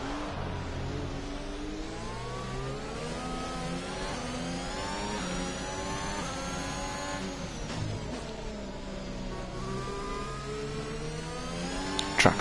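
Formula 1 car engine in F1 2021 at Singapore, racing hard: a high, screaming engine note rises and falls through repeated upshifts and braking downshifts, loud and close, with no talk over it.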